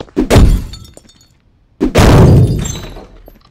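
Glass being struck in a city video game, two heavy smashing impacts about a second and a half apart, each a sharp crack followed by a loud, fading crunch of shattering.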